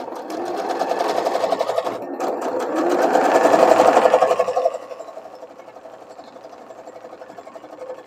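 A sewing machine stitches fabric and felt for a quilted pot cover, with a close rapid mechanical whirr that swells louder for a few seconds and then settles into a softer, steady run.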